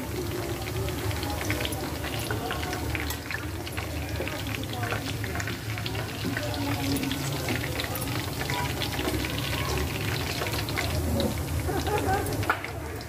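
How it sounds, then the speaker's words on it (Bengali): Minced beef sizzles and crackles steadily in a hot pan as it browns, a continuous frying hiss with a voice talking over it. "আমার কিমাগুলো ব্রাউন কালার করে ভাজা হয়ে গেছে"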